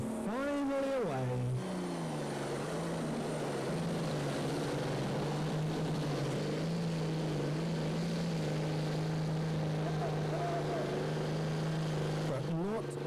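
A tractor-pulling machine at a 1997 European event in Windenhof, France, roars as its engine builds revs, rising sharply then holding a loud, sustained drone throughout the run.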